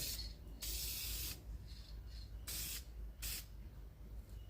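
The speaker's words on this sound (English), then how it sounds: "Vinyl spray's been around for years." Bursts of aerosol vinyl spray hissing loudly in short and longer blasts, separated by brief pauses, close up with no talking, during interior trim restoration of a Datsun 1000 Wagon.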